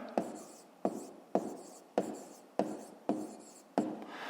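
Pen or chalk writing by hand during a fifth-grade maths exercise, seven sharp taps at a steady rhythm, each followed by a short scratchy stroke, quiet and close.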